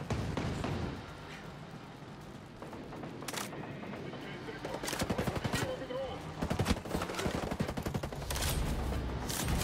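Rapid, continuous gunfire from a minigun in the video game Ghost Recon Breakpoint, dense bursts of close shots with heavier volleys toward the end, with voices talking over the combat.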